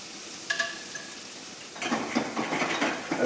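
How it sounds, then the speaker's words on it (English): Vegetables, onions and garlic are sauteed in a pan: a brief clink of utensils, then a steady close sizzle with scraping stir strokes building toward the end, no voices. "we saute the vegetables, the onions, and the garlic"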